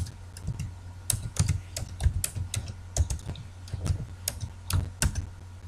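Someone types a message on a computer keyboard, with quick irregular bursts of crisp key clicks close by and short pauses between words, and nobody speaking.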